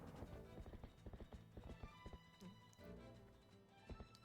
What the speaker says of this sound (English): It's a horse, of course.